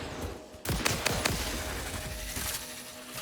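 Homing-ammo gunfire in Satisfactory: a handful of sharp, separate shots crack in quick succession, loud and close, followed by a few fainter pops over a steady background hum.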